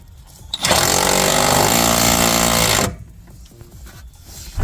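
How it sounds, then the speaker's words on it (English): A power tool drives a self-threading, self-cutting bolt into a car battery terminal on a Corvette C5. It makes a loud, steady mechanical whir lasting about two seconds, then falls quiet. "This is a self-threading, self-cutting bolt."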